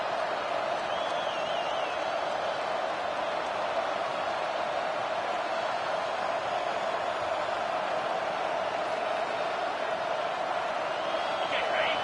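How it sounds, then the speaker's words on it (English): A packed stadium crowd roars steadily in a college football video game, Nebraska against Texas late in the game, a continuous loud wall of cheering with no breaks. "Listen to this crowd just shaking the girders of this place trying to help their defense"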